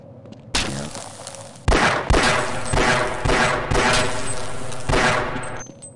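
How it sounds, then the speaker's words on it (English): Sustained, loud automatic gunfire in the Half-Life video game, a long dense burst with heavy thumping impacts and brief gaps. "I am shooting at like 2 pixels on my screen right now"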